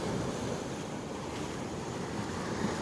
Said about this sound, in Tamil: கடல் அலை நல்லா கேட்டுட்ருக்கு.